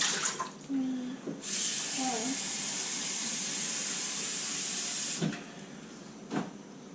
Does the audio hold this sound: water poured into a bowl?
yes